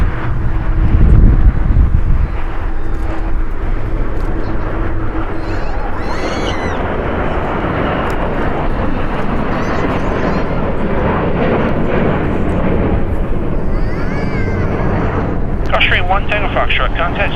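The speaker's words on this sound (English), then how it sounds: "We have a Delta at Boeing 757 being tugged in front of us." A Delta Boeing 757 being towed by a tug at LAX gives a continuous, loud rumble of engine and airport noise with wind buffeting, and voices talk over it throughout.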